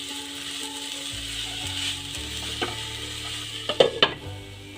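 Banana flower and potato frying over a low flame, a steady soft sizzle with scraping and clicking of a utensil against the pan, plus a few sharper clinks near the end.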